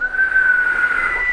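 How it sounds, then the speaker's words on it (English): A steady, breathy whistle held through a slow exhale during a Pilates exercise, close and fairly loud with no talking. "as you breathe out, I want you to whistle"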